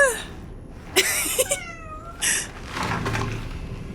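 A cat meowing in the horror video game Cronos: The New Dawn, several short rising and falling meows spread across a few seconds amid brief bursts of other game sound, fairly close and clear.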